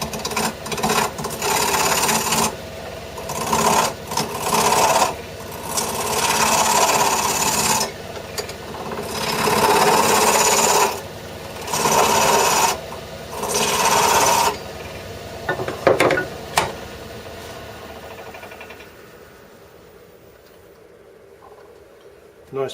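A spindle gouge cuts a spinning wooden mushroom on a lathe, making a steady rasping scrape in long passes broken by short pauses. The sound fades to near silence toward the end.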